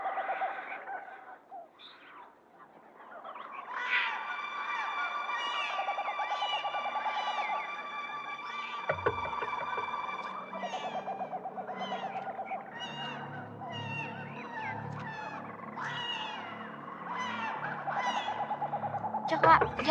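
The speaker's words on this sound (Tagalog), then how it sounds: "Ayun, mga ibon. Ang gaganda." Birds calling in a forest, several overlapping chirps and whistled calls with owl-like hoots, steady and moderately loud over a rustling outdoor background throughout.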